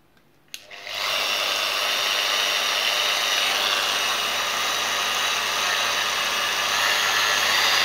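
A Bosch GWS angle grinder switches on at speed setting 1, a click followed by a quick spin-up into a steady, loud, high whine that holds evenly, with no talking.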